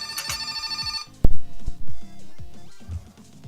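A phone rings in a street-sweeper game session, a bright repeating electronic ringtone burst up front, followed by a busy jumble of bouncy tonal game sounds and a sharp hit.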